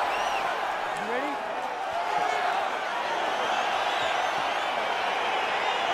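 A video-game arena crowd in UFC 4 cheers as a fight gets underway: a steady, dense roar of crowd noise running throughout, with commentary voices over it.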